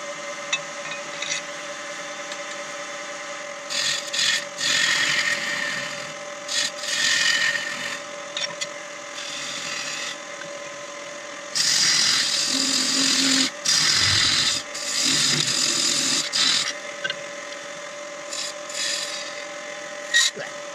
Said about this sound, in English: I used a little bit of a shear cut with the gouge just to shape it off a little bit.